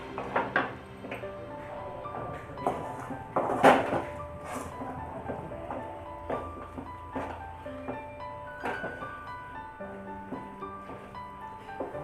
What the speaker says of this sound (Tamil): இப்போ இதெல்லாம் நல்லா மிக்ஸ் பண்ணி, ரொம்ப ஹையில் வைக்காதீங்க, லோ டு மீடியம்.